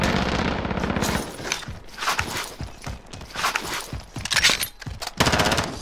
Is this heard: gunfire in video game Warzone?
yes